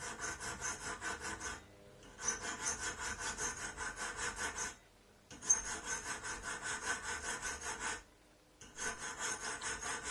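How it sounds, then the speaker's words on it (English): A file rasps steadily across the face of a 20mm wooden jig part, in four long bursts of rhythmic back-and-forth strokes separated by short pauses, close and clear with no talking. "Now file the face of the 20mm part until it is the thickness of your saw blade."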